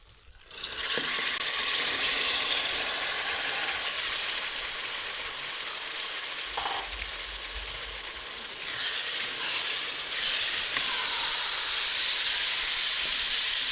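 Black chickpeas roast in masala in a hot pan, giving a loud, steady broadband hiss and sizzle that holds almost unbroken throughout, close up and with no speech.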